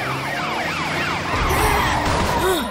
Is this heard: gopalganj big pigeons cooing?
no